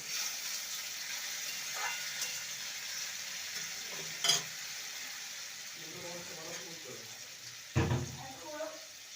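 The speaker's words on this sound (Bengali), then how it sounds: "এবার দিয়ে দেবো সামান্য জল" A little water poured into bitter gourd frying in a pan, giving a steady hiss with a burst of sizzle and splashing, while a voice speaks faintly underneath.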